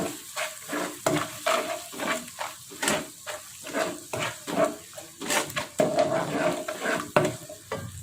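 A spatula scrapes and stirs sugar into rica rica beef tendon in a frying pan, making repeated rhythmic scraping strokes roughly twice a second over a light sizzle, close and clear with no talking.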